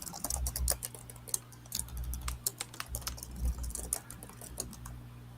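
Typing on a computer keyboard, rapid irregular clicks of keys in bursts with brief pauses, close and fairly quiet, alone without talk.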